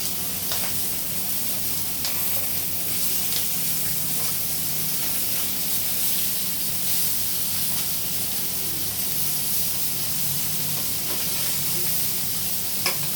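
Masala frying in a pan while being stirred and turned, a steady broadband sizzle with occasional scraping ticks, close and even throughout, no talk.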